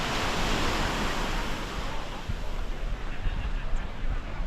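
Ocean surf and waves off Isla Tortuga, Costa Rica, a loud continuous wash of breaking water mixed with gusty wind buffeting the microphone.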